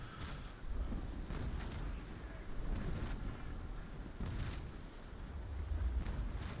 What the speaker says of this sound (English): A few more broadsides and he'll be going down.